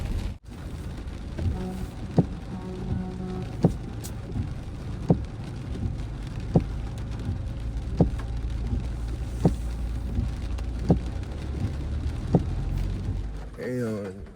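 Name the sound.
heavy rain while driving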